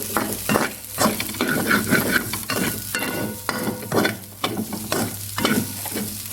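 Egg fried rice is stir-fried in a small, light hot wok, with sizzling and repeated scraping strokes of a spatula in a quick, uneven rhythm.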